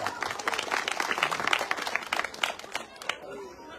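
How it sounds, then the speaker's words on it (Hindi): A crowd claps at a village blanket-distribution gathering, brisk uneven applause mixed with murmured voices, fading out toward the end. "आप सब लोग उनकी हौसला अफजाई कीजिए, तालियां।"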